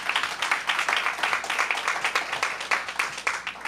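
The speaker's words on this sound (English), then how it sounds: "Let's give him a round of applause for his work." Audience applause at a campus ribbon cutting ceremony, a steady wash of many hands clapping in a mid-sized crowd, moderately loud and continuous for a few seconds with no voices over it.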